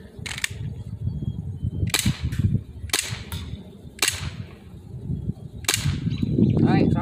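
An airsoft gun with an adjustable hop-up fires at a target: five sharp, snappy cracks spaced about a second apart, each standing out loud and close against a low background rumble.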